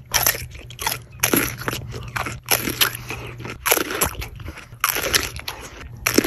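A fresh cucumber is bitten and chewed close to the microphone, loud wet crunches repeating in quick bursts with short pauses between bites, no talking.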